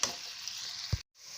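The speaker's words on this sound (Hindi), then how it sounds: "हाई फ्लेम पे प्याज को ब्राउन कर लें" Onions brown in a pan over a high flame for kaleji masala, a quiet, even sizzle broken by a single soft knock before it briefly drops out and returns.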